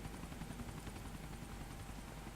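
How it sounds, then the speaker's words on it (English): A police helicopter in the LCPDFR police game hovers overhead with a steady, loud rotor thrum and engine whine, continuous and unbroken with no voices. "LCPD helicopter, the only people who know how to provide you support in this game"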